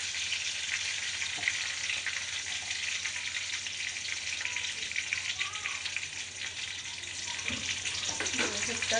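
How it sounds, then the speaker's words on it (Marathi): Brinjal pieces fry in a pan with mustard seeds and curry leaves for an eggplant sabzi, giving a steady, close hiss and crackle of sizzling oil that runs throughout, with a few faint stirring clinks and no talk. "मी वांगी टाकून दिली आहे. ह्या प्रकारे वांगी टाकली मग फ्राय करून घ्यायची चांगली"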